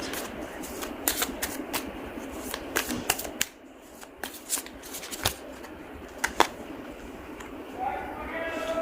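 Tarot cards being shuffled by hand, a run of quick crisp riffles and flicks, near and moderately loud over a soft background hum, with a few scattered sharp card taps toward the end.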